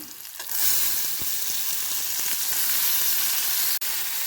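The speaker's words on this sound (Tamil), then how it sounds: "இது கூட நான் தக்காளியை சேர்த்துக்கிறேன்" Loud, steady sizzle as tomatoes hit onions frying in oil in a pan for a tomato egg thokku, with a brief stirring knock near the end and no talk.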